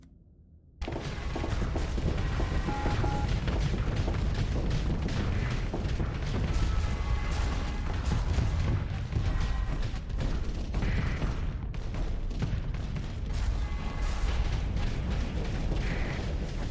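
Ion cannons firing during a modded Starsector space battle, a dense barrage of rapid booming and crackling impacts that starts abruptly and continues loud and continuous with layered mechanical weapon sounds.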